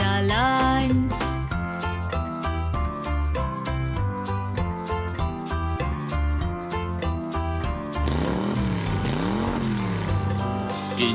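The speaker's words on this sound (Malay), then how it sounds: "Enjin yang berbunyi vroom vroom vroom sepanjang jalan." Upbeat children's animated song with a cartoon tow truck; near the end, a rising and falling engine-rev sound effect swoops loudly over the music.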